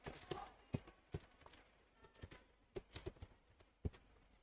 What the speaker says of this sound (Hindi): मैं यहाँ पे अपना पासवर्ड एंटर करता हूँ